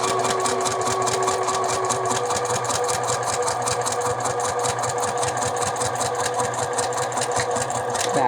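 Sewing machine running steadily, stitching the top edge of a double welt pocket through two layers of garment fabric; a continuous, close, loud mechanical whir with fast rhythmic needle clatter and no voices.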